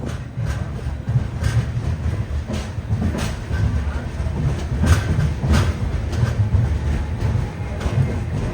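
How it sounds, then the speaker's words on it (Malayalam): Express train running into Dindigul Junction, the wheels beating a regular clickety-clack over rail joints beneath a close, steady rumble, with faint voices in the background. "ഡിണ്ടിഗൽ ജംഗ്ഷൻ റെയിൽവേ സ്റ്റേഷനിലേക്ക് ഇതാണ് നമ്മുടെ ട്രെയിൻ എത്തിക്കൊണ്ടിരിക്കുകയാണ്."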